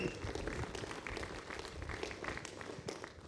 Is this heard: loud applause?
yes